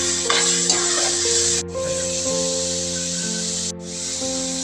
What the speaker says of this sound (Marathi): कोथिंबीर टाकते, टॅमॅटो टाकते, थोडं ते चांगलं परतून घेते.